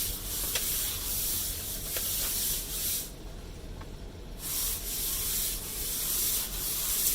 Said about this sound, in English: you put it into this tube, and you're going to blow it with canned air